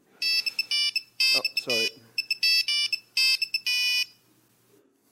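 A phone ringtone plays close and loud in short repeated electronic bursts with brief gaps, and a person briefly speaks over part of it.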